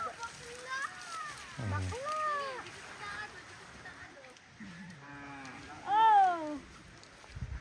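Water buffalo low repeatedly, drawn-out moaning calls with rising and falling pitch, outdoors by the sea in Laguna with soft background noise and an occasional splash.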